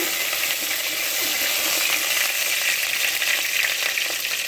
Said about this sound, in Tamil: பூண்டு இதை வதக்கிக்கிங்க